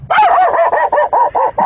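A voice imitates a laughing dog, a quick run of about eight loud, close barking yips in steady rhythm, heard alone.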